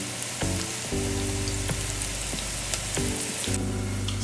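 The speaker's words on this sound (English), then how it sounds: "give the onions a little, a little mix up" Onions sizzle in a hot pan for a vegan lentil stew, a constant crackling fry broken by a few scraping stirs of a utensil, close and without voices.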